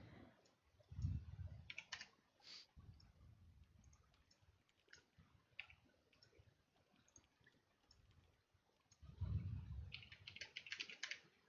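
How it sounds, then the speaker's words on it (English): Computer keyboard typing during an online gaming session, a faint stream of irregular key clicks with occasional bursts of faster clacking, picked up at low level. "We're hearing a lot of your keyboard though."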